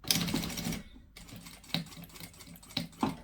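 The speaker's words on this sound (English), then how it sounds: "I'm back stitching at the corner just to reinforce the seams." A sewing machine back stitches the corner of a fabric bookmark with a quarter-inch seam allowance. Short bursts of rapid mechanical stitching sound close and fairly quiet, separated by brief pauses and a few clicks.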